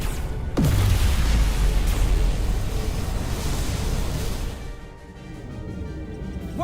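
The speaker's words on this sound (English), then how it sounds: "Dilithium explosion." A dilithium explosion in the sci-fi video game Star Trek: Resurgence, one sudden loud boom that rolls into a long roaring rumble and slowly fades, with no voices.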